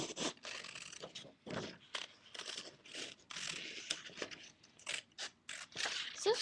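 Scissors cut out a paper flame shape for a doll-sized campfire craft. The snips and crinkles come close and irregular, mixed with rustling paper, with brief talk here and there.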